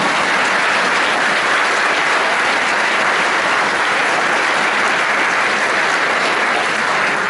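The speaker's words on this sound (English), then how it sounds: "But can we give them another round of applause?" An audience at a senior prize-giving ceremony claps loudly and steadily, a dense, unbroken wash of applause that holds at full strength from start to finish.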